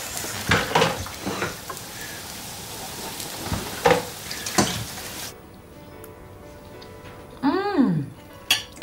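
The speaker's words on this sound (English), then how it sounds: "Fry the onions" Onions frying in a pan, a hissing sizzle broken by several sharp clatters of pots and utensils, then a quieter stretch with a brief rising tonal sound near the end.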